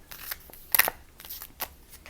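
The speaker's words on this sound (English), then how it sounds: "I'm going to shuffle again." Tarot cards being shuffled by hand: a few quick, close papery riffles and slides, fairly quiet, with no voices.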